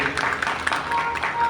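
An audience at a religious Bhagavat discourse gives a guest a short, steady round of applause, many hands clapping together indoors at moderate loudness.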